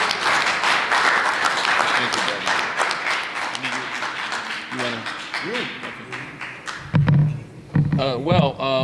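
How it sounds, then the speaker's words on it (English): Audience applause for a man receiving the key to the city in Paterson, New Jersey, a crowd clapping loudly that thins out as voices and brief speech take over toward the end. "Let's give him another round of applause, please."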